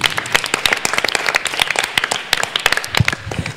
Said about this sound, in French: Maintenant applaudissez pour le rocher de nos vies